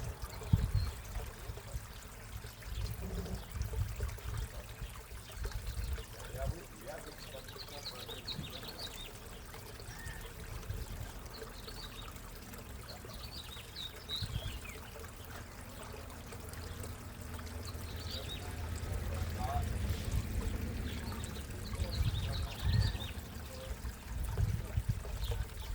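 Water pours and trickles steadily into a backyard pond tank with a bog filter, a continuous low splashing flow heard close up, with faint birdsong in the background and no talking.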